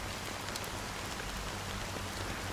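Steady rain falling in Honkai Star Rail, a dense, even hiss of drops on surfaces that stays constant and close throughout with no voices.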